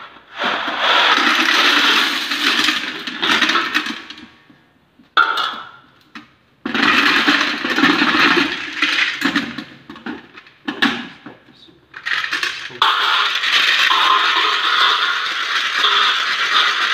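A coarse aggregate sample is poured onto metal sieves in a lab specific-gravity test, making a loud, close rattling pour of stones that stops and starts in several long bursts.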